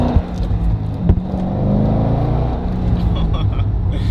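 Chevrolet Corvette C6 Z06 V8 on its stock exhaust, heard from inside the car as a loud, steady low rumble that swells slightly while pulling, with a brief thump early on.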